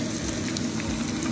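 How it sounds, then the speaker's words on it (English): Beef liver and onions fry in an uncovered pan with a continuous close sizzle and soft crackle, steady and unbroken, with no talking. "it's starting to sizzle, as you can see."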